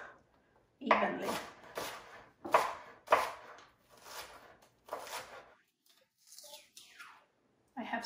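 A knife chops leek on a cutting board for a keto turkey and cranberry meatloaf, giving several separate bursts of cutting spaced by short pauses, close and fairly quiet.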